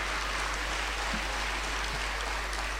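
Audience applause at a live talk at the Avellaneda book fair, a steady, dense wash of clapping that carries through the whole stretch without a break.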